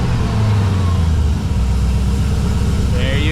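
A supercharged LSA V8 in a ZL1/CTS-V, fitted with a new supercharger coupler, idles steadily with its belt turning, a low continuous rumble close by with no rattles.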